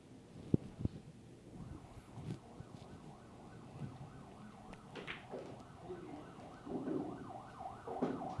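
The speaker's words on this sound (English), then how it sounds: "That, of course, is an actual ambulance passing by where we are." An ambulance siren passing outside during a pool match, its wailing rising and falling tone heard at a distance under room ambience, building gradually louder toward the end.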